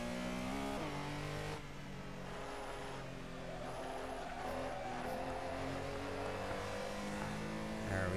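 A race car engine in a Nurburgring GP racing video game holds a steady, loud mid-range drone, dipping briefly then climbing again as revs build and shift, with no pauses throughout.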